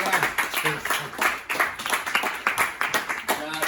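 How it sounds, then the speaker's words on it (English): Audience applause at a live comedy show in Manchester, a dense run of clapping from a nearby crowd with voices murmuring through it. "Keep your applause going"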